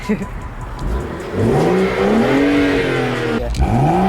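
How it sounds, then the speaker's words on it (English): A car engine in sport plus mode revs up from a low rumble into a rising, sustained whine, drops briefly, then climbs again, loud and close. Voices speak over it. "Wait, I'm hearing more engine noise than exhaust."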